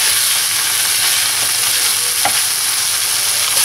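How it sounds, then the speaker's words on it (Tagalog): Chicken sisig frying in a pan while being stirred, a loud, continuous close sizzle with faint scraping strokes of the spoon. "Haluin lang natin."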